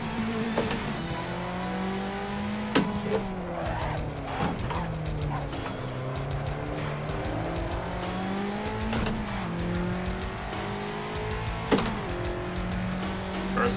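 Racing car engine droning steadily in the video game Assetto Corsa, on a drift circuit, with shifting revs and bursts of tire squeal throughout, loud and continuous with no talking.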